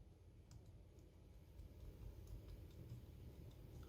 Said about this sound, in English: the keys, listen how quiet they are when you type